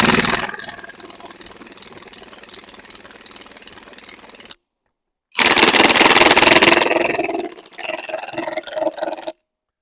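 Hercules 20V cordless 7/16 in. high-torque impact wrench set to speed 1, driving into a tree stump outdoors: a loud, steady hammering whir for several seconds, a pause, then another burst and a slightly changed run.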